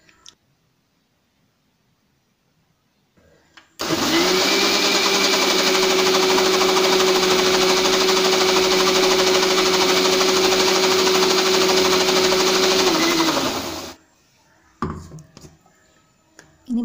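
A kitchen mixie runs at high speed, churning chilled cream with cold water into homemade butter; a loud, steady motor whine starts abruptly, holds for about ten seconds without voices, then cuts off.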